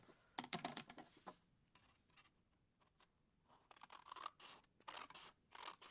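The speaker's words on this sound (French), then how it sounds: "Donc, ces petits bouts, on va les couper. Donc, je prends mon ciseau." Scissors snip through card stock for a handmade pop-up card in a series of quick crisp cuts, close and quiet, with short pauses between bursts and no talking.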